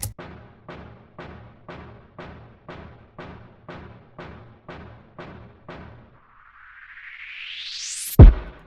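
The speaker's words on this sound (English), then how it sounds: "I literally just dragged in a stomp sound from Splice" A punchy low stomp repeats in a steady beat about twice a second, then stops as a rising noise sweep builds and ends in a sharp hit.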